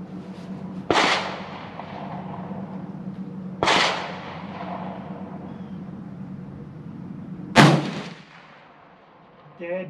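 Three loud rifle gunshots crack out at a shooting range, each a sharp blast with a ringing decay, spaced a few seconds apart, with faint talk in the background.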